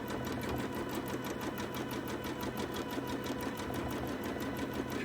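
A sewing machine runs steadily while a toddler's quilt is stitched, a fast, even mechanical chatter with a constant hum, close and moderately quiet, with no talking over it.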